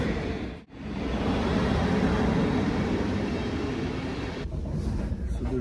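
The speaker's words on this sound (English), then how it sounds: "We're waiting for the train from Düsseldorf." A train at a station, seen while travellers wait for the Düsseldorf service: a steady loud rumbling roar of rail cars, with a short dip near the start and a faint lull later.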